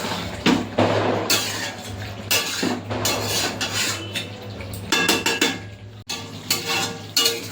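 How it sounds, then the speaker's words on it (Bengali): Chicken pieces for chicken kosha stirred in a pan, with repeated clattering scrapes of a spoon against metal, loud and close over a low sizzle, with no talk. "এখন এরকম তুলে মাঝে মধ্যে একটু নেড়ে দেবো মাংসটা"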